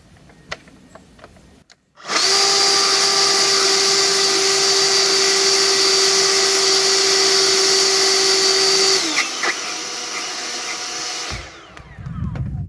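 An EGO leaf blower fitted with a tapered nozzle tube starts after a short quiet stretch, then runs loud and steady with a high whine, drops to a slightly lower roar near the end and cuts off.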